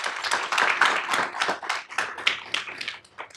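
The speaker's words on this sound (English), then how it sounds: "let's give a round of applause for all the panelists and all their expertise today." Applause from an audience at a civic panel event on homeless solutions in Tempe, with brisk, uneven hand claps that come fairly close and loud, then thin out toward the end.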